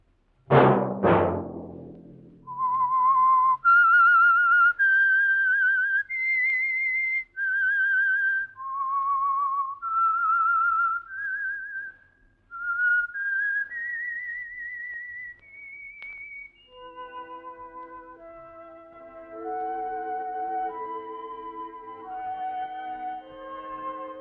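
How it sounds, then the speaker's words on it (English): A lone whistler carries a slow, clear melody of held notes after an opening knock, then soft instrumental music comes in underneath: the theme of the old radio program The Whistler. "Let that whistle be your signal"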